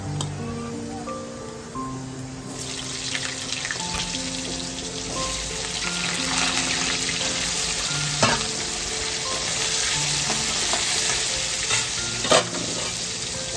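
Cut potatoes fry and sizzle in a pan, a dense close-up hiss that swells as they go in, with scattered crackles and a few spoon scrapes, steady and unbroken by voices.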